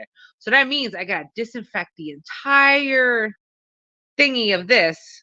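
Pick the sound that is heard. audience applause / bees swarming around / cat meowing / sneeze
cat meowing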